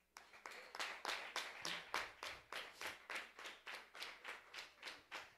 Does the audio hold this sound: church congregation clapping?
yes